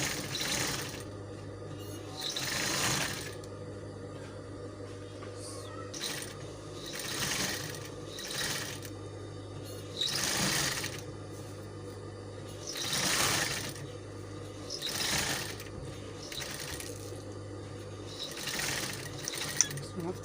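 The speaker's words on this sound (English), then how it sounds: "All I'm going to do now is just to sew each round." Sewing machine sewing around a fabric piece for a garment, with repeated short bursts of ratcheting mechanical chatter separated by pauses and a faint steady hum, close and quiet.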